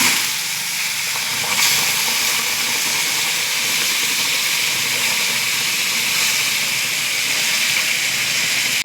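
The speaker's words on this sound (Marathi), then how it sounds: "आपल्याला यात पाणी घालून घ्यायचं आहे आता गरम केलेलं।" Hot water poured into roasted semolina for upma sends up a steady, loud hiss and steam that holds evenly from start to finish, with no talking over it.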